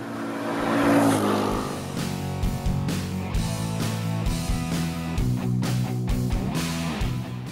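A TVS Ntorq 125 scooter engine putters with a deep, throbbing exhaust note, rising and falling in revs close by.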